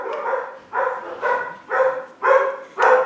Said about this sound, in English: I have a house full of dogs since I breed standard poodles, so once in a while they sound the alarm